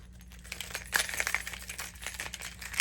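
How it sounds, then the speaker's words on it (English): A keychain jingles inside a handbag, a string of light metallic clinks and rattles scattered irregularly across a few seconds, close and moderately loud, with no voices. "So that's this keychain."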